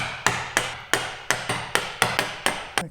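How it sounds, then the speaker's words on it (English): Chisel struck repeatedly with a mallet, chopping into wood at a gauge line, about nine sharp close knocks in a steady rhythm, each ringing briefly. "pop the chisel into the gauge line and make your final chop"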